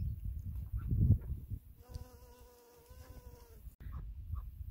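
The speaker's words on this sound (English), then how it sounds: "And there's usually bees hanging around here" A faint bee buzz hums steadily for a couple of seconds around garden flowers amid quiet outdoor rustling and low background noise.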